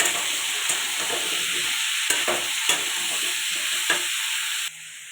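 Pumpkin, potato and prawns sautéing in a pan while being stirred, a close hissing sizzle broken by a few sharp spatula scrapes, cutting off near the end.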